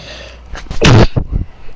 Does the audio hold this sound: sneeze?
yes